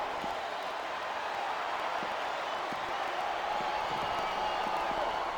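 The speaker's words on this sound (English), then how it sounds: "This capacity crowd is making their opinions known tonight." A big arena crowd at a 2007 WWE Armageddon wrestling match roars and cheers steadily at a distance, a continuous wash of voices with scattered claps and whoops mixed in.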